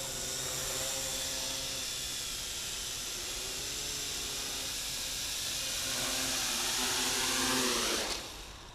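A modified Q333A quadcopter drone with a running-down battery whines in a steady, close, high-pitched buzz of spinning propellers, rising slightly as it comes in to land, then dropping off abruptly at the end.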